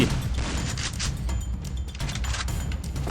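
Shotgun blasts in the Free Fire mobile game, loud, close, repeated shots with booming impacts over a busy battle background.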